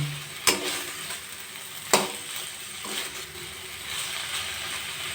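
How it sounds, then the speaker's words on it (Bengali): Banana stem curry stir-fried in a pan over a high gas flame with Gobindobhog rice, giving a steady close sizzle broken by a few sharp scraping stirs of the spatula. "গ্যাসের ফ্লেমটা বাড়িয়ে দু মিনিট ভালো করে কষিয়ে নিলাম"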